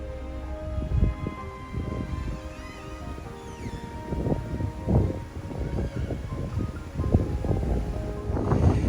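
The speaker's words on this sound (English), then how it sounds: "it's a little bit windy today. I'm trying to shield the microphone on the camera" Gusty wind beside a canal buffets the microphone with low rumbling thumps that swell and fade irregularly throughout, loud and close.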